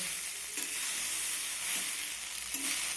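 A spoon stirs noodles coated with ghee in a hot pan, giving a soft steady sizzle and hiss with faint scraping, quiet and continuous.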